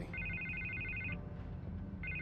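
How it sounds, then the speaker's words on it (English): A telephone ringing in Batman: The Telltale Series, a steady electronic trill that repeats in a long burst, pauses, then starts again over a low background hum. "I can't get the phone to stop ringing."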